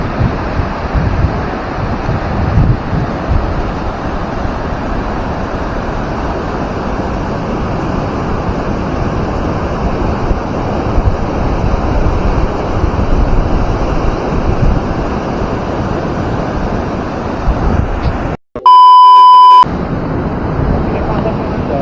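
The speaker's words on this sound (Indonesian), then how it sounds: "Ombaknya gede." Continuous roaring surf of big waves breaking on a coral-reef beach at Pantai Karang Nini, Cilongo, with heavy wind buffeting the microphone, steady and loud throughout, interrupted by a brief electronic tone near the end.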